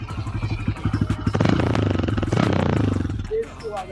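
A Honda Hornet motorcycle engine revving up from idle, a close, loud throttle blip that climbs and holds before dropping back, then fades out.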